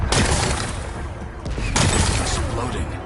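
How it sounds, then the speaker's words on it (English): Rocks blasted apart in the Horizon Forbidden West video game, two heavy explosive booms with crumbling debris, the first at the start and a second about halfway through, each followed by rumbling decay. "Gotta blast away some rocks"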